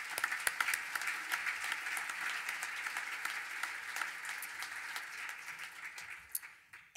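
Audience at an early learning conference on the science of learning applauds its sponsors in a full room, a steady wash of clapping that lasts several seconds, heard from a distance, then thins out and fades near the end.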